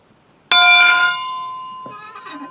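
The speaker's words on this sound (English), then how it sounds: "I really want to ring the bell" An old school bell in an abandoned ghost town clangs loudly once with a long ringing decay, then a second softer strike follows as the tone fades.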